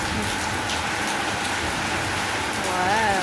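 Steady rainfall pattering on surfaces outdoors, a continuous dense hiss throughout with a faint whistling tone near the end.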